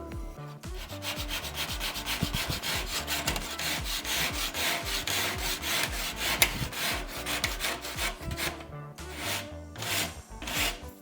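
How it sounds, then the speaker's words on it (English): Rasp grater shaving wood to fit a piece during an apartment renovation, rapid repeated scraping strokes in a steady back-and-forth rhythm, close and continuous. "Seems that I need to take a bit off here,"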